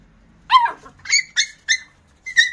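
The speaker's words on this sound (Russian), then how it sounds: "Он, видите, сверху запрыгивает на него, и Филька начинает кричать." A small dog yelps and squeals as another dog jumps on top of it during play on an evening walk, a short burst of five or six sharp, high cries close by.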